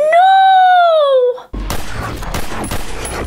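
Gunfire from the movie X-Men: First Class bursts in loud and close as a rapid volley of shots with shattering debris, following a long, sustained whooshing tone.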